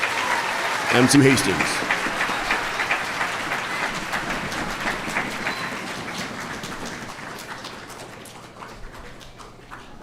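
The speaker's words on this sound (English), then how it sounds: "let's give a round of applause and welcome" A crowd at a middle school Veterans Day assembly applauds steadily for several seconds, the clapping slowly fading, while a voice speaks briefly at the start.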